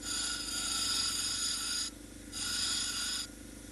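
A stone cabochon ground by hand on a diamond wheel, sped up: a steady, harsh whining rasp comes in two long bursts, with a quieter dip between them when the stone lifts off.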